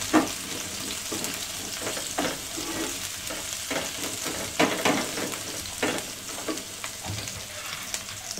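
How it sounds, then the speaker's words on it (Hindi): One medium chopped onion frying in a third of a cup of hot oil, giving a steady crackling sizzle throughout with intermittent scraping stirs of a spoon against the pan. "1/3 कप तेल गरम हो गया है, इसमें मैं डाल दूंगी 1 मीडियम साइज कटी हुई प्याज"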